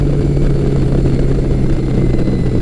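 A Yamaha XJ1100 Maxim motorcycle cruising on the highway at about 70 mph, a loud steady engine drone with a constant low hum and wind noise.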